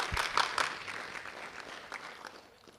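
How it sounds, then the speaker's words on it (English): A small crowd claps at an athletic signing event, with loud bursts of clapping up front that quickly thin into scattered claps and fade out. "Let's give them all a round of applause again."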